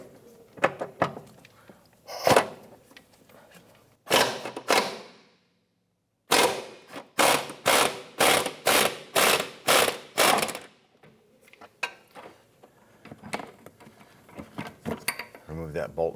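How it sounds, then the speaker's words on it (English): An impact wrench with a 17mm socket loosens a control arm bolt on a 2007-2012 Nissan Versa: a few short bursts, then a run of loud, evenly spaced hammering pulses, followed by quieter clatter. "We want to use our 17mm socket and our impact wrench or impact gun, and we want to go ahead and loosen that bolt"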